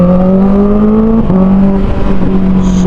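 A Honda CBR 650R four-cylinder motorcycle with its dB killer removed revs loud and close, a smooth rising exhaust howl that dips briefly and climbs again, heard alone without talk.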